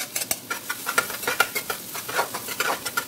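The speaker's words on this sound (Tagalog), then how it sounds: "Subod natin ang ating bawang at yung garlic." Garlic sautéing in a hot pan for Filipino pork dinuguan, with a bright sizzle and clattering utensil stirring in short irregular bursts, close up and without talk.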